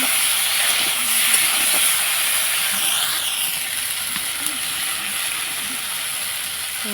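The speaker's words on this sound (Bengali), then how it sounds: "ভালো করে আলুগুলো নেড়ে নেব" Potatoes with salt and turmeric hiss loudly and steadily in a hot pan, a dense continuous sizzle with occasional faint stirring scrapes, close up.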